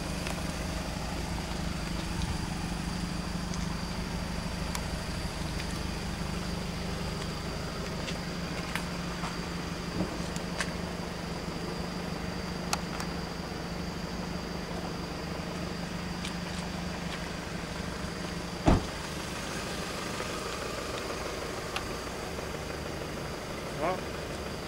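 A car with an aftermarket exhaust pipe and body kit idles, giving a steady low engine hum and exhaust drone that runs throughout with a few faint knocks.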